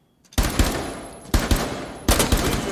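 Automatic gunfire bursts in Rainbow Six Siege during a tournament match, three loud sustained volleys separated by brief gaps, close and sharp with no voices.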